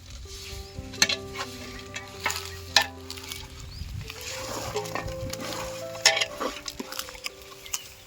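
Onions are stirred into chicken biryani masala in a large pot outdoors, with a soft, steady sizzle and several sharp clinks of the spoon against the pot.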